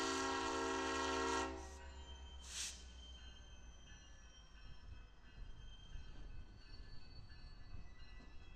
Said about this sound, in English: BNSF GP39M number 2891 is tasked to switching duties at the yard.